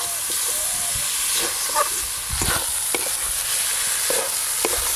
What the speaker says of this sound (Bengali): গোবিন্দভোগ চালগুলো দিয়ে মশলা আর চাল একসঙ্গে ভালো করে একটু কষে নিয়েছি